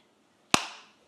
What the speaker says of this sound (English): My producer needed me to clap.